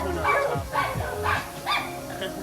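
A dog barks four times in a steady rhythm, moderately close, with little else around it.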